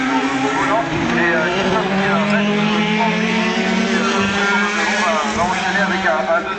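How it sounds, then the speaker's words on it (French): The Pescarolo number 16 race car idles and revs near by in the pits with a steady, loud engine drone and shifting whining tones, while a commentator talks over it. "La voici qui s'arrête, la Pescarolo numéro 16"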